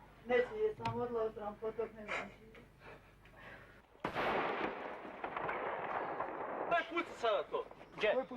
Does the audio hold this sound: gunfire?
yes